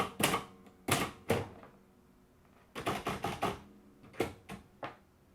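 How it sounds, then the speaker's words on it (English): Keys struck on a Royal manual typewriter, a 200 or Mercury model, come in short bursts of sharp mechanical clacks with brief pauses between them, close and clear with no talking. "and then now I can continue my typing"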